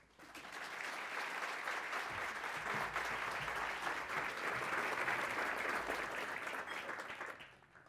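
Audience applause at a City Club of Cleveland gathering welcoming a speaker, a sustained even wave of clapping from a roomful of people that swells, holds and tapers off at the end.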